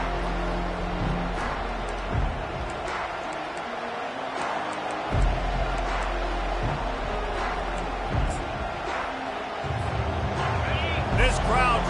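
College football stadium crowd in Iowa keeps up a steady, far-off roar under close play-by-play commentary, with brief swells and dips as the offense lines up.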